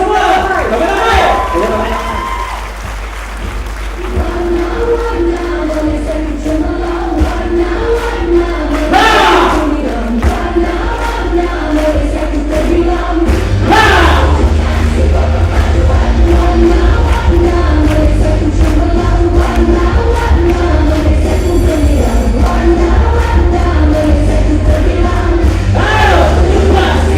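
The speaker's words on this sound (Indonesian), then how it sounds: "Ayo hadirin dan hadirat, Tepuk tangan semua. Ramai-ramai." Large crowd at a Malaysian national event cheering and clapping, a sustained loud roar with shouts rising above it and a steady low hum underneath throughout.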